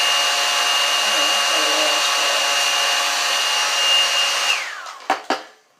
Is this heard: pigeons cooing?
no